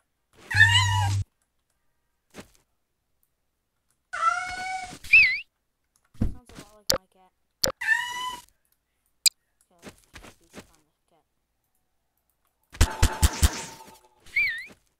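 A cat in a Gmod game meows several times, sharp, close, rising calls spaced a few seconds apart, among scattered keyboard clicks and taps in an otherwise quiet room.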